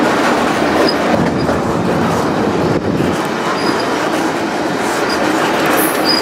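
A freight train rolls past very close on a horseshoe curve of track in open Wyoming country, a loud continuous roar of wheels and cars with faint squeals, steady throughout with no talk.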